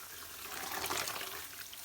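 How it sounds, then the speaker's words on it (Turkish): Cold water pouring over freshly cooked, drained rice to shock it, a soft steady hissing splash that swells slightly in the middle, faint and close. "Hemen soğuk su. Soğuk suya şoklama yapıyoruz."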